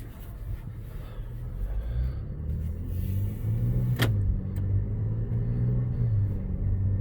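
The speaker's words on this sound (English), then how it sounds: "that thing just now shifted about 4 times just pulling out the driveway" An Acura MDX with a nine-speed automatic pulls out of a driveway, a low steady engine rumble from inside the cabin with subtle shifts in pitch as gears change, plus one brief sharp click.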